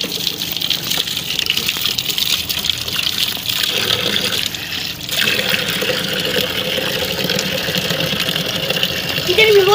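Water gushes continuously from a full water tank on a rainy day, a loud, steady rushing pour close by, with a brief dip midway and speech mixed in.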